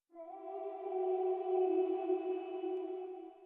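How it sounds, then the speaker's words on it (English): A sustained tonal lead-vocal note in an acoustic pop mix hangs and rings out with a smooth, washed reverb throw tail, heard alone without other instruments. "So if we take a listen to the reverb throws that I've got going on."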